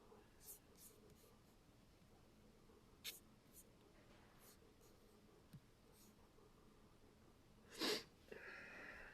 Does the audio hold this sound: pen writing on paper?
yes